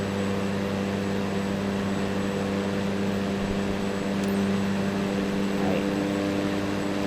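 A propeller aircraft engine in Microsoft Flight Simulator, a steady droning hum with strong tonal harmonics that holds constant and rises slightly in intensity as throttle is added, with no talk.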